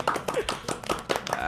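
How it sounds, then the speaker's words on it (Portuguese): Studio clapping effect added in the edit of a talk program, a quick run of sharp, close hand claps in an uneven rhythm, with a voice talking over part of it. "Cadê aquelas palmas que tem na edição?"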